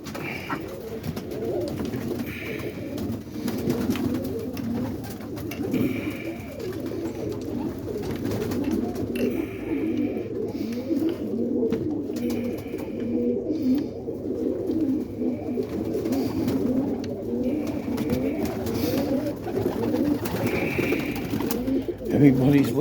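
Roller pigeons coo in a loft on a rainy morning, a continuous low murmuring chorus of many birds close by, while someone speaks softly over them.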